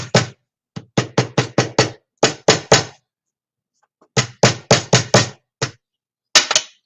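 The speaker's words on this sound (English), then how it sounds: "take a hammer." A hammer taps on a 12 x 12 mini album in quick bursts of sharp, close knocks, several strikes per burst with short pauses between, no talking.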